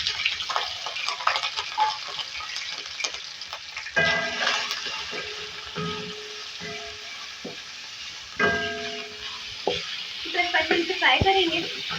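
Chicken pieces with a spoonful of garlic ginger paste frying in a little oil, a steady sizzle broken by louder bursts and clatter as ingredients hit the pan and are stirred.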